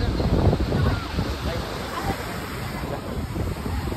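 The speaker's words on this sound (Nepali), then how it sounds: "यस्तो डरलाग्दो छाल छ" Large, rough ocean waves crash on the shore in a continuous low roar, with heavy wind buffeting the microphone and a person speaking nearby.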